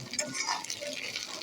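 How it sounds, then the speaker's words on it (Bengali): A utensil stirs eggs and potatoes in a breakfast pan with soft, continuous scraping and faint sizzling, close and fairly quiet, with no talking. "এখন ডিমটা ভালোভাবে নেড়ে নেব।"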